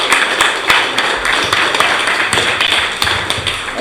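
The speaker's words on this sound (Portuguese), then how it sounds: "É uma salva de palmas para o povo que está lá na ocupação" A crowd claps in a salute to people at an occupation, a steady run of sharp, fairly loud hand claps and taps with no voices over them.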